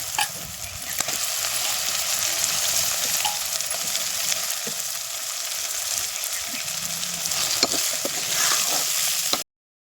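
Tomato, onion and stingray dry fish fry in a pan with a dense, continuous loud sizzle and hiss, occasional stirring scrapes, ending abruptly.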